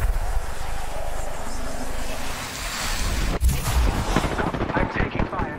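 Gunfire in Apex Legends starts after a windy, rushing lull: a sharp crack, then a quick run of loud, close shots that rattle to the end.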